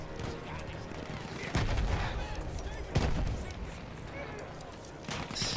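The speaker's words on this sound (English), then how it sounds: "So there's field guns that are shelling you." Field guns shelling in the World War I shooter Battlefield 1, heavy booming impacts landing a few seconds apart over a dense, noisy battlefield din, with voices mixed in.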